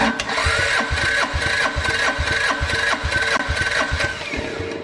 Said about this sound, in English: Right, we'll just crank the engine over.